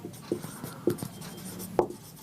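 Marker or chalk strokes land on a board in a chemistry lecture, giving three short, soft taps and scratches spaced about half a second apart, faint against a quiet room.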